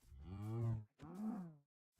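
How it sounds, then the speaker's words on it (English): A cow in Minecraft moos twice in quick succession, two drawn-out low calls close and clear with a brief gap between them, no talk. "Okay, goodbye, cow."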